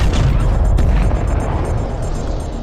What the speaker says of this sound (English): The antimatter explosion flared up,